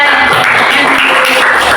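Students in a classroom clap for their classmates in a short, loud burst of applause from a nearby group.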